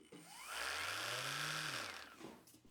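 A brushless Vevor sander spins up, runs with a steady high whine, then winds down, all fairly faint and heard alone over a couple of seconds.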